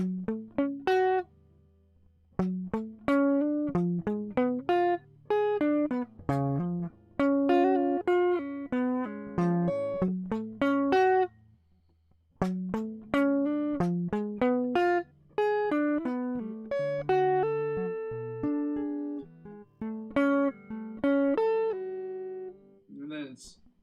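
A guitar plays a choppy, repeating riff of picked notes and chords with brief pauses between phrases, heard alone and fairly close.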